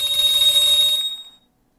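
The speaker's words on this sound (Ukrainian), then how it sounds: "І мені пише в чаті, що нет предметів. І це йде зі звуковим сповіщенням." A notification chime from the Lineage 2 online game signalling missing items, a single bright ringing tone that holds for about a second, then decays quickly to silence.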